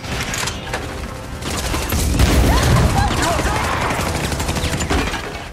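Rapid bursts of gunfire crackle continuously in a film shootout, dense and loud, mixed with clattering and booming effects.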